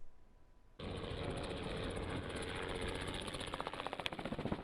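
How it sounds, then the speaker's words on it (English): A helicopter flying overhead at the Phinda Game Reserve in KwaZulu-Natal, a loud, steady broadband engine roar that starts abruptly, then develops a pulsing rotor beat toward the end. "A helicopter overhead, jeeps on the ground, rhinos with horns running freely through the reserve."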